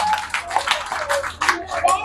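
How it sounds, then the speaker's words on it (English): School children clap for themselves during a road safety visit, with a few uneven bursts of hand claps and an adult voice speaking over them. "Clap for yourself."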